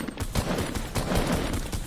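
Rapid bursts of gunfire in Fortnite, a dense, loud run of shots in quick succession, with no talking.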